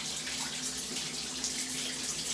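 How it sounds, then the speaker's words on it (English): Steady rush of shower water running in a home bathroom, a constant broadband hiss with no breaks, fairly close and alone without any talking. "While I'm in the shower"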